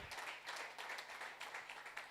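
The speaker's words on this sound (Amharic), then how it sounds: "ከፍ ያለ ጭብጨባ ጨብጭባችሁ አረፍ አረፍ በሉ" A church congregation claps together in quiet, distant applause, a steady patter of many hands lasting a couple of seconds without voices.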